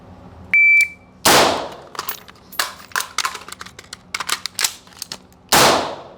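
Handgun shots fired close and loud during a combat reload drill, one crack early on and another near the end, with a timer beep before and rattling magazine and gun handling clatter between the shots.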